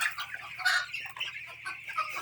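A chicken clucks in short, repeated bursts at a poultry farm, fairly close and moderately quiet, with a steady low hum in the background.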